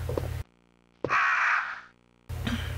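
A crow in Resident Evil: Director's Cut gives one loud, harsh, drawn-out caw, close and alone between stretches of game ambience.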